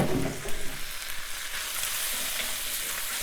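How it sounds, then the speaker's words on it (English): Firm pad thai rice noodles hit a hot oiled pan and sizzle loudly, a dense continuous frying hiss with a few stirring bumps near the start. "our pad thai noodles are hitting the pan"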